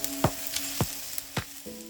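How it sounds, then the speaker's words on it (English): Hon-Shimeji brown beech mushrooms hit a hot pan with a soft sizzle and a few sharp clicks and scrapes spaced about half a second apart, close and fairly quiet, with no talk. "It is now time to add the Hon-Shimeji or brown beach mushrooms to this dish."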